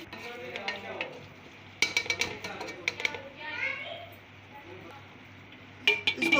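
Potatoes being stirred into a masoor pulao curry in a pot, soft scraping and clinking of a spoon against the pot with faint sizzling, voices talking in the background.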